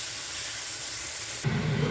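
Milk poured into hot flour halva hisses and steams in a pan, a steady broad sizzle that thickens and grows louder near the end; no one talks.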